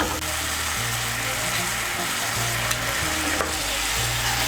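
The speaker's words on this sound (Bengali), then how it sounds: "সমস্ত উপকরণগুলোকে মিশিয়ে নিয়ে মশলাটাকে ভালো করে কষিয়ে নেব।" Spice masala with chopped tomato and salt being sautéed in a pan for a chal potol curry, steady loud sizzling and frying with spatula scrapes throughout.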